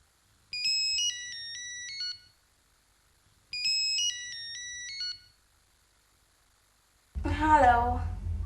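A telephone ringtone trills in two clear electronic bursts, each about a second and a half long with a pause between them. After the second burst a voice starts talking.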